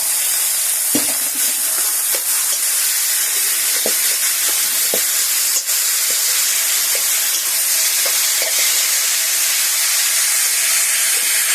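Rolled taro leaves fry in a pan with a steady, loud, close sizzle and hiss, broken by scattered small pops and crackles, with no voices.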